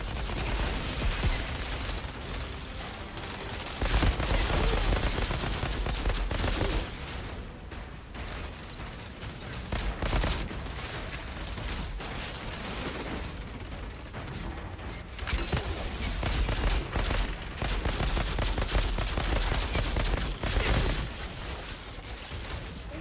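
Dense, continuous gunfire in the shooter video game Outriders, loud bursts and booms layered with mechanical clatter, filling the whole stretch without talk.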